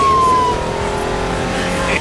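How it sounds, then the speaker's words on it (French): A police car chase in a film, with a loud, dense roar of engines and tyre noise that holds steady throughout and has a brief high whine near the start. "la police se lance à leur trousse, nous offrant ainsi une course-poursuite intense à rendre jaloux Vin Diesel."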